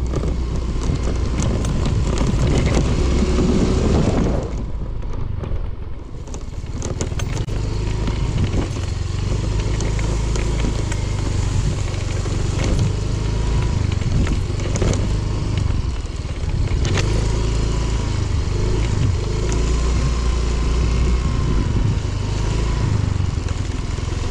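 A motorcycle engine runs close by with a low, rough rumble that keeps going throughout, rising and falling slightly as it rides over uneven ground.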